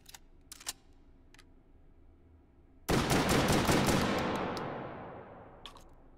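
A shotgun firing in the VR game Hot Dogs, Horseshoes & Hand Grenades: a few light clicks, then one loud blast whose rumbling tail fades slowly over several seconds.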